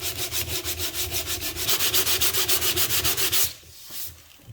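Steady rhythmic rasp of sandpaper scrubbing back and forth by hand on a wooden radio cabinet, a Philips A5X83A, close and loud, about twenty even strokes before stopping.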